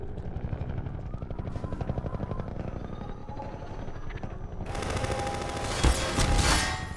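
Steady rapid thumping rotor chop of a combat helicopter in the video game Half-Life 2, loud and continuous, joined later by bursts of gunfire.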